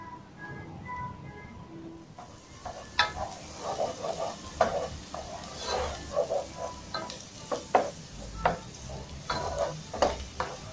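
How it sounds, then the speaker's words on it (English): Onion and garlic sautéing in a pan for vegan cream of pumpkin soup, a soft steady sizzle broken by repeated clicking stirs and scrapes of the spoon at an irregular rhythm. "we're going to saute down the onion and the garlic"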